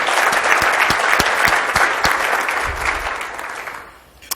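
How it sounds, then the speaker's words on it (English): Audience applause at a business talk event fills the room loudly and steadily with dense clapping, then tapers off toward the end. "please help me thank them with our applause"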